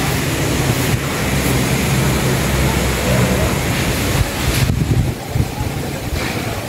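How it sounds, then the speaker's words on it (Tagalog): Strong storm wind roars continuously around the microphone, a dense, heavy rushing noise with gusts and buffeting throughout. "Dito po ang hangin."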